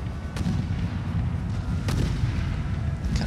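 Artillery in a Napoleonic battle game between French and Russian armies, heard as a steady low rumble with a few distinct cannon booms at scattered moments, with no talk over it.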